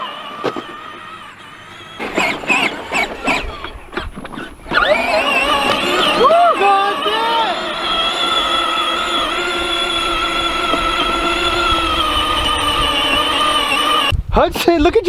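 Kids' tractor driving through mud: a steady, loud electric motor whine that rises and holds for several seconds after some bumping and clattering, with people talking over it.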